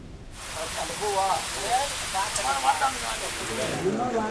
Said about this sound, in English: On the last day of filming here, there were intense rains and we had to stop somewhere for a break.